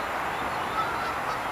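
Geese honking by a lake at a carp fishing spot on Shakerly Mere, a steady mid-distance chorus of calls over continuous outdoor background with no talking.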